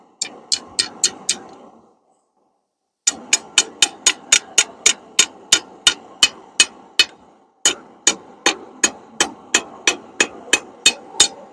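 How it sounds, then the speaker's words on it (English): A hammer strikes hot steel on an anvil while a fire pit poker is forged, giving sharp ringing blows in quick regular runs separated by short pauses, loud and close. "Your hammer falls in one spot and you move the steel to be under your hammer"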